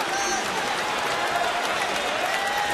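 A baseball stadium crowd at an Oakland at Houston game roars after a running catch in right field for an out, a dense, steady wash of cheering and applause that holds at an even level throughout.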